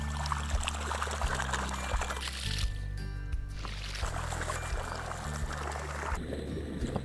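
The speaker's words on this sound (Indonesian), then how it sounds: "Ini airnya nih di ujung selang, alhamdulillah cukup deras ya guys" Water gushes out of the end of a long irrigation hose fed by a submersible borewell pump, a continuous splashing, pouring rush close by, with a low engine-like hum underneath and no one talking.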